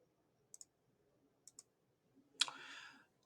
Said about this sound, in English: So I'm going to come here and select hole. I'm going to click on these 4 points.